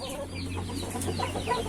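Free-range village hens cluck at a small home farm during egg laying, a run of short clucks and murmuring calls close by over a steady low background hum, with no talking.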